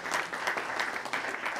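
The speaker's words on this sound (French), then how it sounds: "Je crois qu'on peut applaudir tous ces" Audience at a round-table closing session of a 2019 forum claps together in a brief, dense burst of applause, steady and fairly close.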